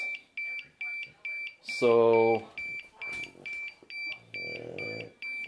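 A timer alarm on a DJI Mavic Mini controller beeps in a steady repeating pattern of sharp high electronic tones, loud and close, while someone speaks briefly over it.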